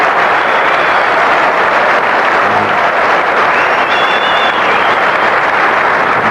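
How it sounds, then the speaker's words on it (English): Cricket crowd applauding a good fielding stop in a Pakistan versus England match, steady broadband clapping from a large stadium crowd sustained throughout, even and continuous with no voices over it. "A very appreciative crowd."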